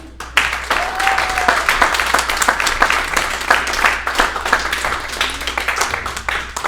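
A live comedy show crowd breaks into sustained, dense applause for a comedian, loud and close, with steady clapping throughout and a few faint cheers mixed in.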